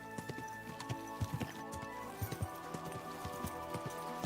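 Horse hooves clip-clop in a steady walking rhythm in the video game Kingdom Come Deliverance II, fairly close, over a low ambient hum.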